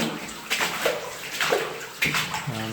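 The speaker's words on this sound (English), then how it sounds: "Quite a bit of water still running down the side of this main tunnel." Water runs steadily down the side of a main tunnel in the Ruth Hope mine, a continuous close rushing and splashing trickle with small surges and no voices.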